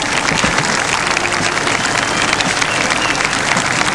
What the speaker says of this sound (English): we can hear the swell of noise from the crowd